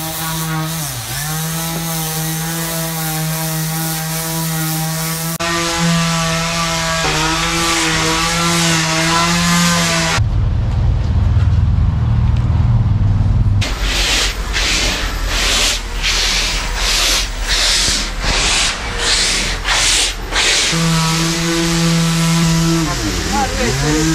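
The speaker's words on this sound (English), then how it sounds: "And today is sanding." A power tool sands a sailboat hull out of the water after the barnacles have been scraped off. It gives a loud, continuous grinding whine that shifts in pitch and texture as the tool moves and changes pressure, with brief breaks.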